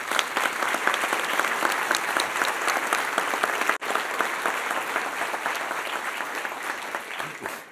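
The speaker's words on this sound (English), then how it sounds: "How about a round of applause for Ed Martin?" A university audience applauds at a state-of-the-university address, with dense, sustained clapping that stays strong for several seconds before tapering slightly near the end.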